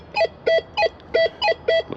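A Nokta Legend metal detector sounds over a buried target, six evenly spaced bright electronic beeps repeating in a steady rhythm, loud and alone.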